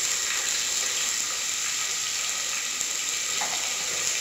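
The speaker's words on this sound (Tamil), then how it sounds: "வெங்காயம் வந்து லைட்டாக வதங்கட்டும்." Sliced large onion sautés in a pan with fennel seeds, giving a steady, dense sizzle. The frying crackles evenly and close by throughout, with no talking.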